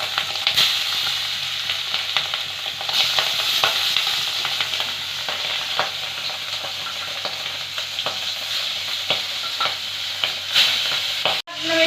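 Tangra fish frying in hot oil in a wok, producing a loud, continuous crackling sizzle with scattered sharp pops and stirring scrapes throughout, with no voices.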